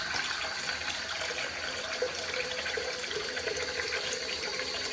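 Steady running tap water splashing into a sink while hands are wetted, a continuous close hiss with no talking.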